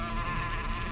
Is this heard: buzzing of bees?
yes